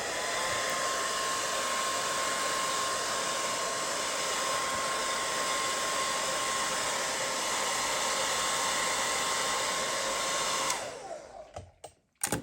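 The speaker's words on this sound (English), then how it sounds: "let's just give that a little bit of a dry over with the hairdryer" Hairdryer blowing over a water-damaged Russell & Bromley leather shoe, a loud steady whooshing whine for about ten seconds before cutting off abruptly, followed by a few faint knocks.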